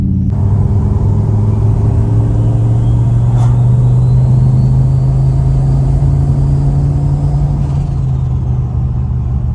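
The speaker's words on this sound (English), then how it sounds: "just going to do a drive-by just to hear how cool this car sounds" A turbocharged LS1 V8 Holden VY rumbles loudly and continuously nearby, its deep growl rising slightly in pitch as it drives past.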